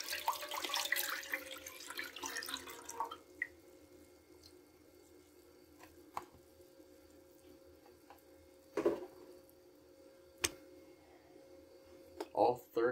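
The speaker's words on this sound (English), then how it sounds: "Now we are going to add our bone chicken broth in." Thirty-two ounces of chicken bone broth pours from a carton into a pan holding water, a steady liquid gush for a few seconds followed by faint clinks and taps in a quiet kitchen.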